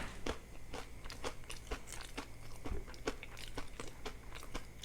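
Raw carrot crunched between the teeth, loud and close, with a dozen or so sharp crisp bites and chews at an uneven, steady pace, no voices.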